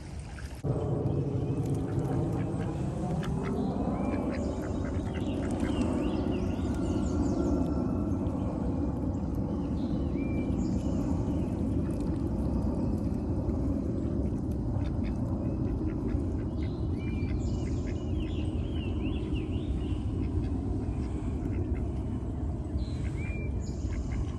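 Farm ducks quack intermittently beside running water that pours and splashes continuously, the calls mid-distance over a steady wash of flowing sound.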